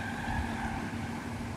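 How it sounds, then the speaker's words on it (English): A Volkswagen Golf at an autocross event in a stadium lot sustains a steady tire squeal under a droning engine, moderately distant and continuous without a break. "Oh, hearing the tire screech."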